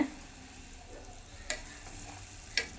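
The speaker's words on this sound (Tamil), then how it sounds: "நல்லா கொதிக்குதுங்க பாருங்கள்" Vegetable soup boils steadily in a pot, a soft continuous bubbling sizzle, with two sharp metallic clinks, like a spoon tapping the pot, partway through.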